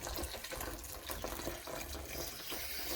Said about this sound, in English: So we're just going to put some water in, enough to cover them.